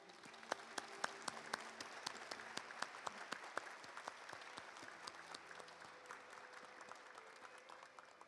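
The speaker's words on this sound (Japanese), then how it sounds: "拍手を持ってお迎えください。" Audience at a university graduation and degree conferral ceremony in Kanagawa applauding steadily as a graduate representative is welcomed, a faint, even patter of many hands with crisp individual claps, heard from a distance.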